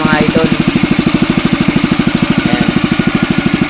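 Small engine driving a water pump beside a river at night, a steady rapid putter of firing pulses that stays loud and close throughout without a break.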